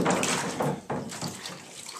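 Plastic parts of an Amstrad CPC 464 computer casing dropped back into soaking water during cleaning, soft sloshing and splashing close by with a few brief watery swishes.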